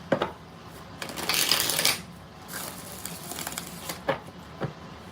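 Tarot cards being shuffled by hand at close range: a long riffling burst in the middle, framed by sharp taps and quick flicks as the deck is squared and cut.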